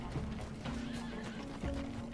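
A horse in the Red Dead Online video game neighs, a short wavering whinny heard twice over game background noise with light hoof sounds, no speech.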